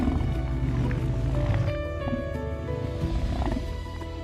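A lion's call carries from far off across open grassland, a deep tonal roaring that swells and then trails off, sounding distant and resonant over a constant low background rumble.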